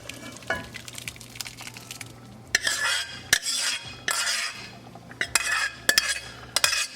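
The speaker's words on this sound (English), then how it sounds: "And we can transport the whole dal." Thick dal makhani scooped and tipped into a pan of spice tadka, with repeated scrapes, clanks and wet plops of a metal spoon against the pot in bursts, close and fairly loud.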